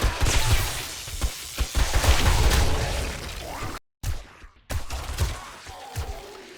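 NPCs fire M60 machine guns in 7 Days to Die with the Rebirth mod, producing loud bursts of rapid gunfire with thumps and pops, briefly cut off by a gap of silence before the shooting resumes.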